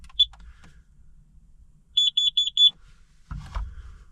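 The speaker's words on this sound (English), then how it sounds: "make sure you have a carbon monoxide detector" A carbon monoxide detector in a snowbound camper truck heated by a propane heater gives one chirp, then after a pause four quick, bright beeps in a row, loud and close over a quiet interior.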